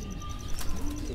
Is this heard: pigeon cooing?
yes